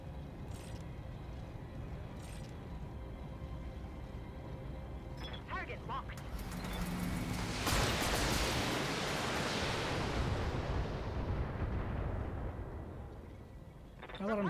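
Mech weapons fire at an Atlas in the game Battletech: a few sharp early shots, then a long rolling barrage of explosive blasts and roaring fire swells up and fades, with a final burst at the end.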